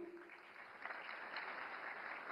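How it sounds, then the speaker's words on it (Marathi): An audience at the Akhil Bharatiya Marathi Sahitya Sammelan breaks into a brief burst of applause, a dense patter of clapping heard at moderate distance for a couple of seconds. "शमीमा अख्तरसाठी पुन्हा एकदा जोरदार टाळ्यांचा गजर करूया."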